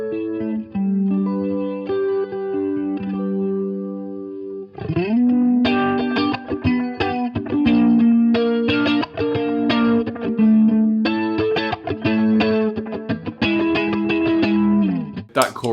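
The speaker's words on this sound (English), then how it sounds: "That chorus sound it just adds this sparkle to like the chords" Electric guitar chords run through a Boss CE-2W chorus pedal, shimmering and sustained, starting with a softer passage before louder strummed chords ring out steadily, with some distortion-like grit and no talking.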